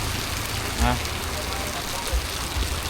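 Rain falls steadily outdoors in a rural area, a dense, even hiss of drops at moderate loudness, with faint speech in the background.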